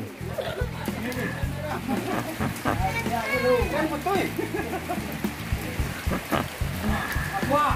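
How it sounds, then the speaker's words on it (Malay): Rain falls steadily at a fishing pond stocked with gourami, tilapia and carp, a constant hiss under lively chatter and laughter from people fishing throughout. "Makin hujan makin seru."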